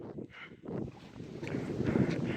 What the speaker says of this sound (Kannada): ಹೆವಿ ಅಂದರೆ ಹೆವಿ ಗಾಳಿ ಹೊಡಿತೈತೆ